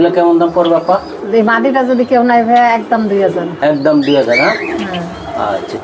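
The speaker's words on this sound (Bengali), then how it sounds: "আপার কবুতরগুলো আমরা দেখানোর চেষ্টা করলাম" Racing pigeons coo at a pigeon farm, their soft repeated calls mixing with people talking close by.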